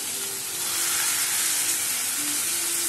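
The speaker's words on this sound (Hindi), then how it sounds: "अब डालते हैं हम इसमें प्याज, पत्ता गोभी भूनेंगे हम इसमें।" Onion and cabbage frying in hot mustard oil in a kadhai, a loud, dense, continuous sizzle heard close up with no talking.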